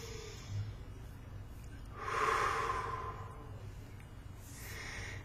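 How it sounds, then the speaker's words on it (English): A single deep breath drawn in and let out, close to the microphone, rising in the middle of an otherwise quiet stretch with faint breathing before and after. "Take a deep breath."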